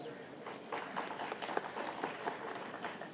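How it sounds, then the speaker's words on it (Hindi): Crowd of pension-scheme rally attendees in Delhi clapping together, a dense steady patter of many hands at moderate distance, with a few sharper claps standing out and some voices mixed in. "और आप अपने लिए तालियां बजाइए"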